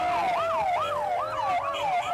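An ambulance siren wails continuously in a rising and falling pattern, loud and close, as the vehicle carries Diego Maradona to Clínica Olivos for surgery on a hematoma.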